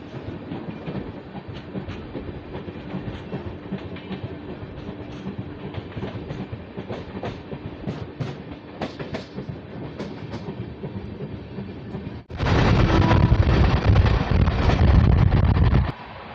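A passenger train on the Delhi to Ajmer route rolls steadily with a continuous rumble and rhythmic clatter of wheels on rails, heard from inside the carriage. Near the end the noise abruptly grows much louder and rougher, with no talking.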